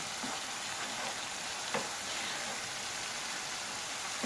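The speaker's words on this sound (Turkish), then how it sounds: "Biraz karamelize olacak soğanlarım" Steady, close sizzling of onions frying in a pan, a continuous hiss with faint crackles and one brief clatter.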